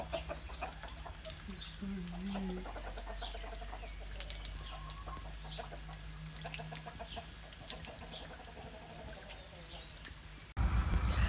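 Chickens sheltering under a roof during heavy rain cluck softly and intermittently over a background of steady rain patter, with a few birds murmuring together at moderate distance.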